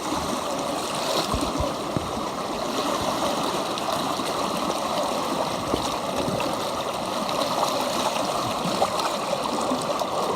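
Rapids on the Heber River rush steadily in a broad, continuous roar of water over rock, close and even throughout with no voices.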